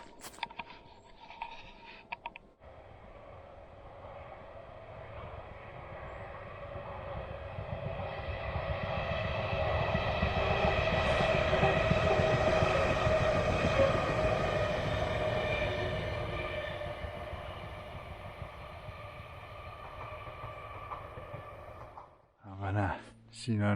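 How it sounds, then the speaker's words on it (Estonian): A train passes at speed, building from a distant rumble to a loud roaring peak mid-way and fading again, with brief outdoor sounds before and after. "Rong tuleb, see rong tuleb päris"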